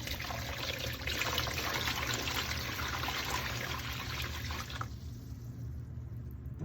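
A soap and water mixture pours steadily into a soaking tray, a continuous splashing trickle that runs for several seconds and then stops abruptly, leaving quiet hiss.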